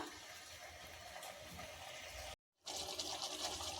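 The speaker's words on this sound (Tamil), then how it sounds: "தேவையான தண்ணி ஊற்றலாம்" Water splashes and pours steadily into a pot of chicken biryani, briefly cut off by a moment of silence before the pouring resumes.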